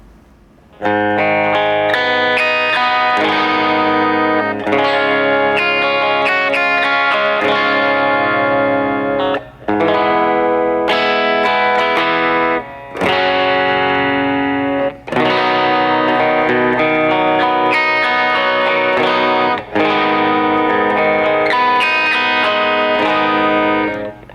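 Gretsch Country Gentleman electric guitar on the bridge pickup, played through a tube drive pedal into a Vox AC30 amp: loud, driven rhythm chords strummed in sustained bursts, re-struck about every five seconds with brief gaps, alone with no talk.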